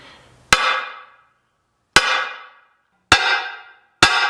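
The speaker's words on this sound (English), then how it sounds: "you're going to hammer it on the opposite side so that you can get that mark on the actual adapter plate" A hammer strikes a metal transmission adapter plate for an AE86 K24 to W58 Supra gearbox swap, four sharp, loud metallic blows at irregular intervals, each ringing out and fading before the next.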